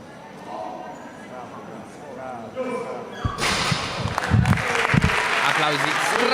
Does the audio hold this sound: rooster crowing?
no